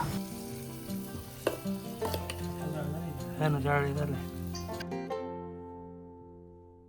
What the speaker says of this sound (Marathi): मस्त मटण मसाल्यामध्ये घालून चुलीवर दणकून अशी उकळी घेणार आहे